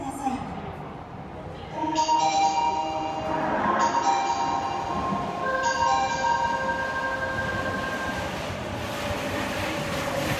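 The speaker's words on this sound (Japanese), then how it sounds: "1番線に横堤行きの最終電車が到着します。" A last subway train pulls into the platform at Shinsaibashi station on the Nagahori Tsurumi-ryokuchi line, a rising rumble of wheels and motors with tonal whines, heard while a platform announcement plays over it.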